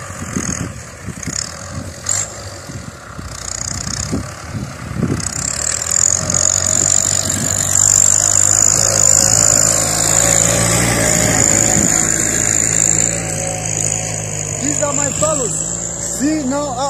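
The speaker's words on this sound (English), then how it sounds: "See now how the tractor, the jembe, the tractor plow is cutting the furrow." A tractor pulling a plow cuts irrigation furrows for watermelon and butternut on a farm. The engine drones steadily and loudly, with rising whine and clatter, and a voice talks over it early on.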